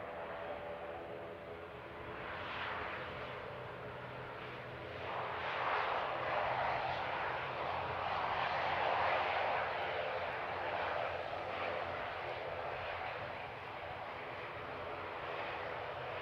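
Light aircraft engine droning steadily at the Canterbury Aero Club airfield in Christchurch, a continuous moderately loud hum that swells somewhat in the middle of the stretch before easing slightly.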